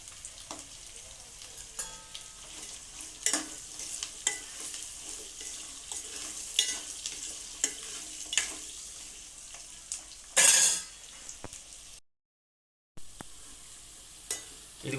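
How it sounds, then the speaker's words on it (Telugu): Garlic fries in hot oil in a pan, stirred with a spatula, giving a steady sizzle punctuated by repeated scraping strokes and one loud hissing burst near the end before a short silence. "గడితో తిప్పుకుంటూ ఉండాలి వెల్లుల్లిపాయలు బాగా వేగిదాకా"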